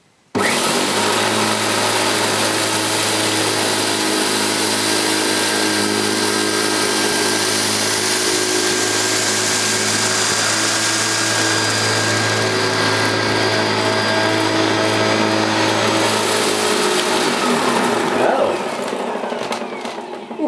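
Hoover U2462 Turbopower 2 vacuum cleaner picking up rice, a loud steady motor whine and airflow roar that starts abruptly and runs unbroken for about twenty seconds, with slight shifts in tone near the end.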